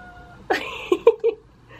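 A house cat meows several times in short, close cries at a door, asking to be let inside, with a faint beep before it.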